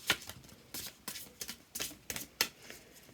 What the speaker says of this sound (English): Let's see what they're like for shuffling.